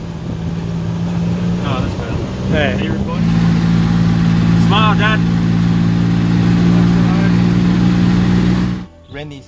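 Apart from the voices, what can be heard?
tuk tuk engine revving in third gear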